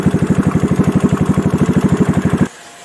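Yamaha Mio Smile scooter engine running steadily after a starter test, a close, loud, even idle chug with regular pulsing for about two and a half seconds before cutting off.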